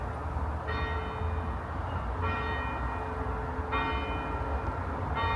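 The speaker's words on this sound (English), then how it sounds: "just as I started recording there, the bell started again." Church bells in an old churchyard at night, ringing out as three spaced, resonant strikes that hang over steady outdoor background noise.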